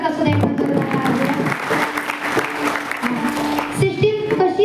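An audience at a devotional kirtan gathering gives loud applause, a broad clatter of clapping mixed with a voice and some tonal sound from the speakers.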